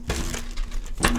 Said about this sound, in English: And final shuffle.